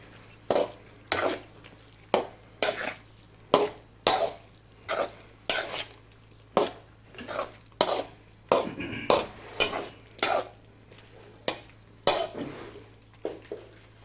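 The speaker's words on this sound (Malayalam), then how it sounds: "പച്ചമുളക് മല്ലിയില ഇളക്കി ഇങ്ങനെ ഇളക്കി കൊടുക്കാം" A spoon stirring chilli gobi with green chili and coriander in a pan, producing a steady series of short scraping, clattering strokes roughly every half second, close and fairly loud with no talking.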